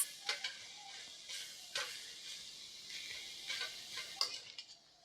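Bamboo shoot and carrot stir-fried with prawns in a pan for spring roll filling: a faint hiss under repeated sharp spatula scrapes and clinks against the metal, irregular and close, no speech.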